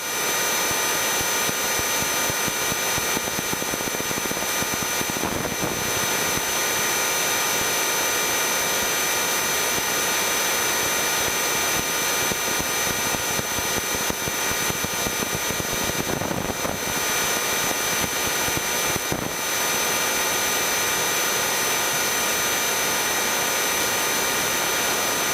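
Steady light-aircraft engine drone during a landing approach, throttled back while descending toward traffic, a continuous loud hum with broadband wind noise, heard alone and unbroken for the whole span.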